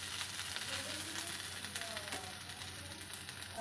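Potatoes fry with a steady sizzle in a pan after a dusting of garam masala, with faint stirring scrapes running underneath at close range and no one speaking.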